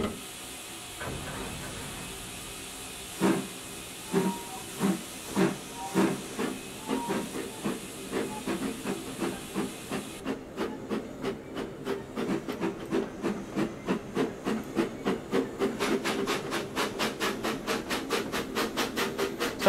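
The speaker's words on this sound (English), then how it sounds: "we've got some much more prototypical steam engine sounds to that of the default ones that you usually get in Trainz" A steam locomotive pulling away in the Trainz Plus simulator on the Gloucestershire Warwickshire Steam Railway route: slow, spaced exhaust chuffs over steady hiss quicken into a fast regular beat as the engine gathers speed.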